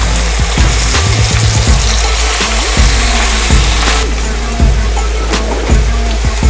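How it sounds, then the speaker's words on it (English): Tomato stirred into vegetables for Filipino pinakbet in a frying pan, a loud, steady sizzle and hiss running the whole time, with a spoon knocking and scraping against the pan at intervals. "Then mix the tomato."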